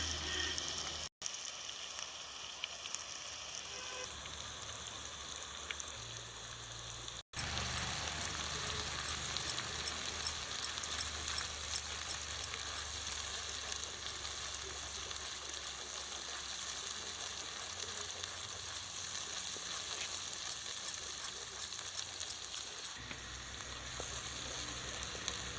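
Garlic paste fries in hot oil with a dense, constant sizzle that holds for the whole stretch. A couple of brief dropouts break it near the start, and no one speaks.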